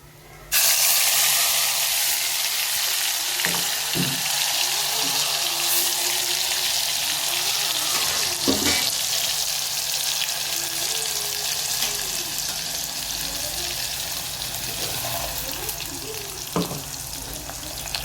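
Pea ragda with tomato, onion, garlic and green chilies is tempered in hot oil, making a loud, continuous sizzle and hiss that starts abruptly. A few clinks and scrapes of stirring break through, and no one speaks.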